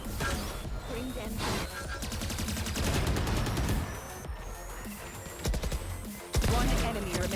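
Rapid gunfire and bursts in a Valorant esports match, dense and continuous over game sounds, with casters talking throughout.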